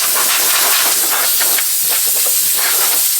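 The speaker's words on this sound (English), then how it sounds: "blow the dust off with my air compressor" A blast of compressed air from an air compressor nozzle blows dust off a panel of a Ducati Panigale 1299S motorcycle, a loud, steady hiss running close to the mic with small fluttering bursts throughout.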